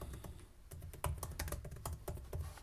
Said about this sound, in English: You just type something in